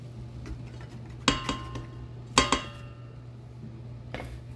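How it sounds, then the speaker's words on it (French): A spoon strikes a bowl while pouding chômeur batter is stirred after flour goes in, giving a few sharp ringing clinks among quieter scraping, close and alone. "Et on brasse ça encore."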